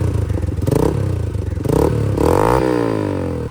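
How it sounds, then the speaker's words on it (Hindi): A modified motorcycle with an Akrapovič exhaust revs loudly and close, its engine note climbing and falling in several surges with some mechanical clatter, and no voices. "एक्रापोविक का एग्जॉस्ट है।"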